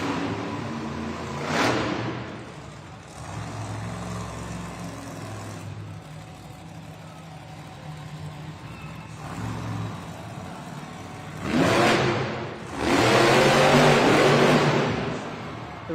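An Earthshaker monster truck revs hard during a Monster Jam freestyle run in Austin, Texas. Loud engine roars swell in two surges, a brief one early and a longer, sustained blast near the end, over a steady arena rumble.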